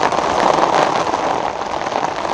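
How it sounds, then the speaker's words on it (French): Steady rain drums on a tarp over a campsite, a dense close patter at constant loudness with no voices. "il y avait le bruit de la pluie sur la bâche"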